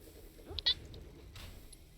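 A pet cat gives a short, faint meow close by over a quiet room hum, followed by a softer trailing sound.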